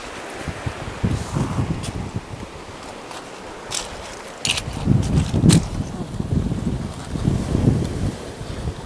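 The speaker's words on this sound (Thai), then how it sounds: "ลมก็แรงหน่อยเด้อจ้ะ ช่วงนี้เดนมาร์กลมแรงแรง" Strong wind buffets the microphone on the Danish coast where sea kale grows, roaring in uneven gusts with rustling plants and a steady rushing background.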